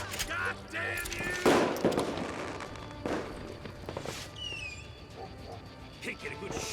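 Gunfire in the western video game Call of Juarez: Gunslinger; scattered moderate shots and short bursts ring out at uneven intervals over several seconds, mixed with footsteps and game sounds, with talk heard alongside.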